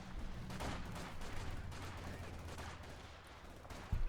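Heavy submachine gun fire in the WWII strategy game Company of Heroes 2, rapid bursts of automatic gunfire crackling amid dense battle noise, with a sharp loud shot at the very end.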